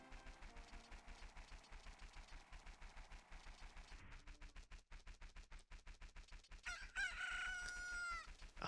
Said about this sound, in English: it's going to confuse me every single time that the it's turning night sound is the cuckoo